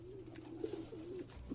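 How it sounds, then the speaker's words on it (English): Crowned pigeons in a Minecraft wings addon coo in soft, low repeated calls, several hoots close together over a faint ambient background, with no talk. "Crowned pigeons."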